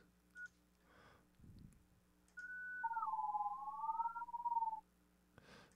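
A synthesized tone drawn with a bright brush in ANS Virtual software: a clean pure tone that glides downward and wavers, with a second layered tone beneath, sustained for about two seconds, quiet and alone.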